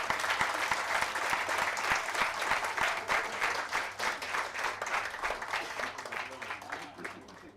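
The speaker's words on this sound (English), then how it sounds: "A huge round of applause." A hall full of people applauding at a university conference in Pune, dense continuous clapping that stays loud and even throughout with no speech over it.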